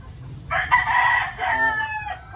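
A single broodcock rooster crows close by, one full cock-a-doodle-doo rising and trailing off, with faint background noise and no talking.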